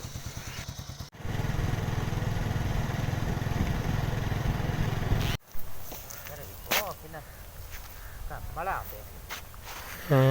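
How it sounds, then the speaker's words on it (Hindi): Motorcycle in a rural Punjab village starting up and idling to warm up, a steady engine rumble that cuts off, followed by engine noise mixed with voices and movement nearby. "ये मोटरसाइकिल है, इसको स्टार्ट करते हैं"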